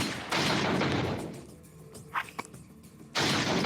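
Red 9 pistol fire in the Resident Evil 4 VR game, loud sharp shot bursts at the start and end with a quieter stretch between, a few small clicks in the middle.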